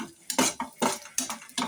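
A utensil stirs and scrapes onion and coconut frying in a pan for a chicken gravy masala, with five or six quick, close scraping strokes in an uneven rhythm and no talk.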